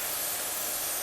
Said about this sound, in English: it's spraying like an absolute